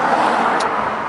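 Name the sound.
road traffic queuing at roadworks outside an office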